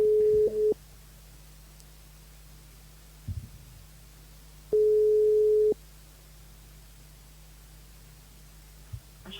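Telephone line tones on a live radio call-in broadcast: two short steady beeps separated by seconds of low hum and line noise, with a faint click in between and no speech.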